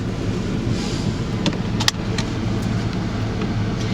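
An SUV sets off on a test drive, with a steady low interior rumble of the engine and road and a few sharp clicks near the middle.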